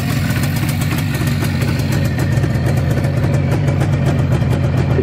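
A Jawa 638 motorcycle engine idles steadily with quiet mufflers, a close, even low-pitched throb that stays constant throughout with no talking.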